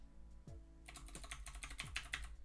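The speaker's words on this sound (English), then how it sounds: "I'm typing." Rapid typing on a computer keyboard, a quick run of light clicking keystrokes at close range with no talking over it.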